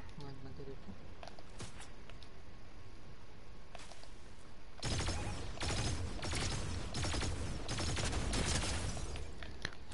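Gunfire in Fortnite comes as a string of sharp, rapid shots that grow denser and louder halfway through, with quieter scattered pops before.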